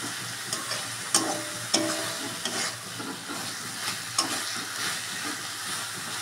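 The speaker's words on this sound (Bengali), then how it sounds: "এখন মশলাটা হালকা হালকা ভাজলাম" Spices frying lightly in oil in a kadai for a Bengali fish curry, a soft continuous sizzle broken by occasional stirring scrapes and clinks, close and fairly quiet with no talking.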